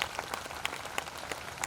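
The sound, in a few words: audience clapping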